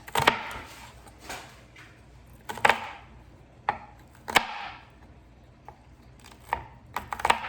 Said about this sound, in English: Now you can chop it like this, like that, or you can chop it like this.